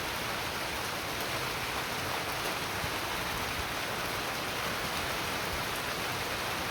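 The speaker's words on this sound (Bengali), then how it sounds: "যে বৃষ্টি দেখেন নামছে" Rain falls in a steady, dense wash of noise that stays even throughout, with no talking and no distinct drops standing out.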